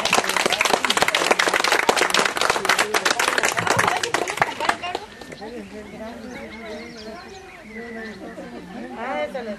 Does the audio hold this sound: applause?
yes